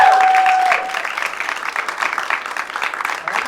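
An audience claps loudly at first, then the applause thins into a steady, softer patter of hands that carries on to the end.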